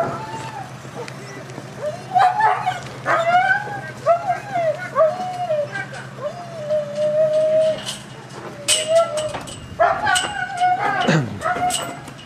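A dog on a farmstead barks and whimpers repeatedly while left behind as people prepare to leave, its yelps and howl-like cries rising over steady background noise and occasional talk.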